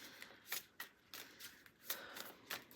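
Moonology oracle cards being shuffled by hand, a run of quick papery riffles and soft slaps in an uneven rhythm, close and fairly quiet with no talking.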